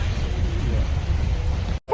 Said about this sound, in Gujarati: વરસાદ બહુ છે